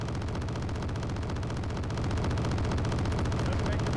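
Flak Panzer Gepard anti-air gun in Wargame Red Dragon firing continuously, a dense, loud stream of rapid automatic cannon shots that swells slightly louder halfway through.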